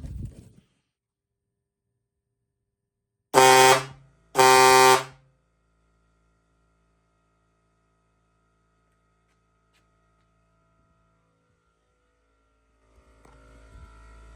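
Two loud, blaring air horn blasts in quick succession break the silence in a garage, followed by quiet room noise and faint rustling.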